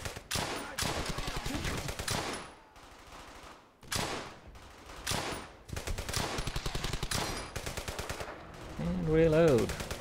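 Gunfire in the World War II shooter Brothers in Arms: Hell's Highway, with loud bursts of rapid automatic fire broken by short pauses and followed by more sustained volleys.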